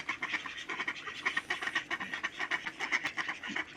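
White ducks quacking near a Cape Town wine estate, a rapid run of raspy, nasal calls that overlap in pulses, continuous and fairly close, with no talk.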